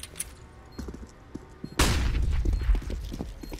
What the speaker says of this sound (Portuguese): Grenade chucked out, and that'll be some good damage